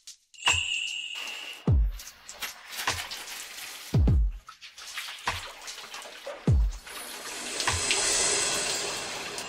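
Water from a shower runs and splashes, with sharp drip-like impacts spaced every second or so and a steadier rush near the end, fairly close and with no voices.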